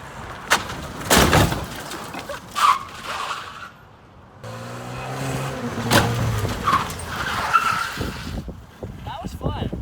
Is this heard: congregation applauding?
no